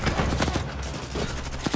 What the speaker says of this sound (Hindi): फायरिंग करते रहो।